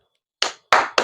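Three sharp hand claps during a political talk about the Gosha Mahal constituency, spaced unevenly and close by, each loud with a quick decay.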